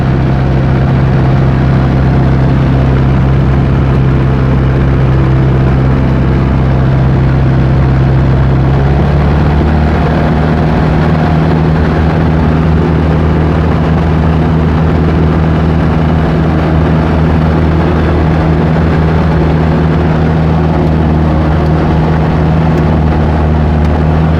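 A Rotec Legacy 2200 radial aircraft engine runs steadily on a Jabiru airframe, a loud continuous low drone with a strong throbbing hum that shifts slightly in pitch partway through as the throttle changes, with no talking.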